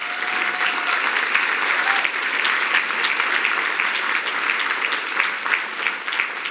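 A round of applause from a gala audience, a dense, steady clapping of a large crowd in a room, fairly loud and sustained with no talk over it.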